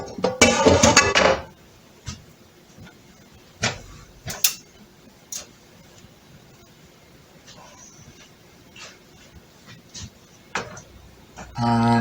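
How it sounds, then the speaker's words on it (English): A spoon stirring beef enchilada meat mixture into red sauce in a pan: sparse, light clinks and taps against the pan in a quiet room, after a brief burst of talking at the start. "I'm just going to stir this around carefully."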